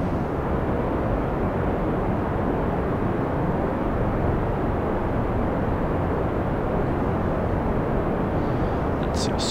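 A rocket lifts off at full throttle in the video game Kerbal Space Program, a continuous, loud, broadband roar held steady throughout.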